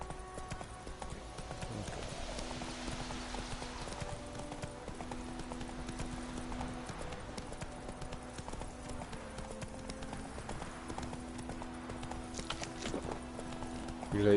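A horse gallops in The Witcher 3, rhythmic hoofbeat clip-clops running steadily over a low game music bed, with a faint snort or whinny, heard from close by.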